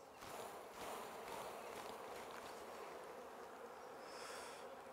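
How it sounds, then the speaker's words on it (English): A dense, steady hum of many honeybees buzzing close by as they are shaken off a frame during queen rearing, faint and continuous with no talking. "So I'm going to shake the bees off."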